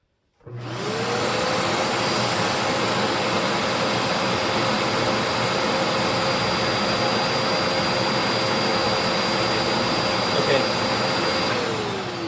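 A 1400-watt, 12-amp motor running under load at about 121.5 volts, a loud, steady whining roar that starts abruptly and holds constant with a faint tonal hum throughout.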